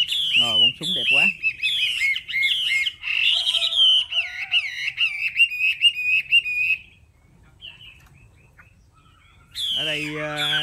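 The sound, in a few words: birds singing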